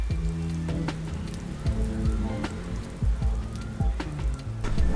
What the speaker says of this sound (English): I actually really enjoy being inside a cool cafe when it's raining outside